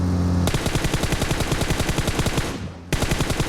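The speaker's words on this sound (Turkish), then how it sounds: "tam koşu yoluna sıkıyorum adam yön değiştiriyor ya" Rapid automatic gunfire in the PUBG Mobile game, a loud sustained burst of closely spaced shots that halts briefly and then resumes, heard alone without talk.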